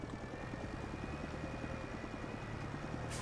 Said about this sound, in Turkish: Helikopter mi geçiyor?